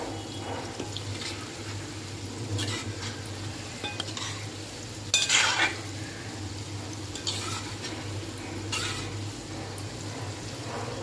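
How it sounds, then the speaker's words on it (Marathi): Gulab jamun frying in oil in a kadhai over medium heat, a constant soft bubbling sizzle with occasional louder crackles and light stirring scrapes, no talking. "मीडियम गॅसवरती छान असे गुलाबजाम आपल्याला हे तळून घ्यायचे आहे।"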